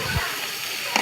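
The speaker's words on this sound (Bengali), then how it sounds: "সুন্দর করে ভেজে নেব।" Potatoes added to already-fried meat crackle and hiss in a hot pan, a dense steady sizzle with a low thump near the start and a brief sharper clatter near the end.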